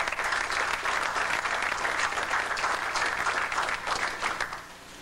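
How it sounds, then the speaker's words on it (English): Sustained applause fills a hall at a correctional institution as the audience thanks supporting organisations, dense even clapping from a sizeable crowd that holds steady and then tapers off at the end. "Could we please give them a round of applause?"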